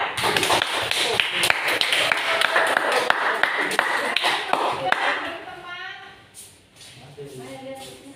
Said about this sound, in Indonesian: Berikan aplaus dulu untuk kelompok 3.